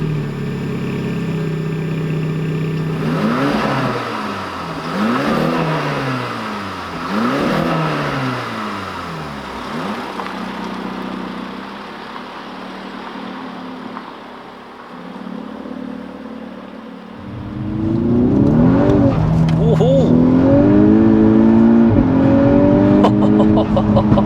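A Stage 2+ tuned 367hp Mk6 Volkswagen Golf R engine cranks and catches, revving up and down several times, settles to a low idle, then revs loudly and steadily nearby.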